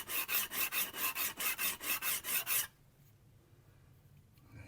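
A chisel is rubbed back and forth on a coarse 80-grit sharpening plate to take off the burr, giving about a dozen rhythmic rasping strokes before stopping into quiet.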